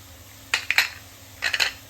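A spoon stirs turmeric powder into amla (gooseberry) pickle in a pan, giving two short clusters of clinks and scrapes against the metal. The clinks are close and moderately loud, with quiet gaps between them and no voices.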